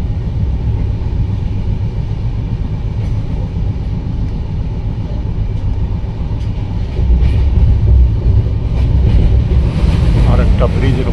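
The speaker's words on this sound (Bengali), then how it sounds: "আর একটা ব্রিজের উপর থেকে এখন ট্রেন পার হয়ে যাচ্ছে।" A train crosses a bridge on a line heading toward Howrah, its loud steady rumble and rattling wheels growing heavier and clanking toward the end, heard from aboard.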